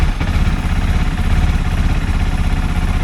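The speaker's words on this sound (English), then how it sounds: "Now even if I turn on the bike," A KTM Duke 390 motorcycle engine idles close by, a loud steady throbbing rumble with even rhythmic pulses and a slight mechanical clatter, no speech over it.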